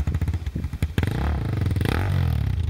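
A motorbike engine sputters in uneven pops, then catches and revs hard into a loud, rising roar that holds with rough rattling, heard close and alone.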